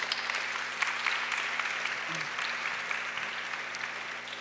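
An audience at a university cultural festival panel on gastronomy in Lagos gives sustained applause, a dense and even wash of many hands clapping at moderate volume for several seconds with no talking.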